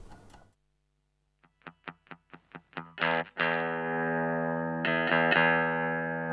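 Clean electric guitar through a Menatone amplifier with the master volume pushed up: a run of single plucked notes, then sustained ringing chords with a few sharp strums, bright and close.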